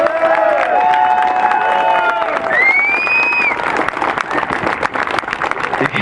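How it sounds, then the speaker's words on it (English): Outdoor crowd at the Occupy Glasgow rally in 2011 giving a round of applause and cheers after the speakers, loud and close, with whistle-like tones rising above the clapping. "put your hands together and give them a big round of applause"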